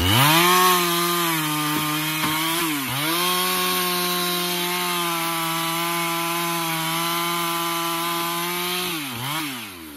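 A chainsaw engine roars loud and close, holding a steady pitch as it bites through wood, dipping briefly twice as the load shifts.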